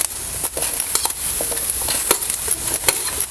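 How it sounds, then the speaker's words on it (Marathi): Chopped green tomatoes go into a pan where chilies are roasting for a village-style raw tomato chutney, with close sizzling and scattered stirring scrapes and clatter. "आता आपण हे टमॅटो चिरून घेतलं ना ते घालूया"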